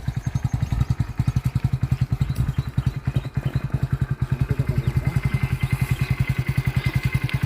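A motorcycle engine runs close by with a fast, even thumping pulse that holds steady and grows slightly louder toward the end. Occasional clatter sits over it, and no one talks.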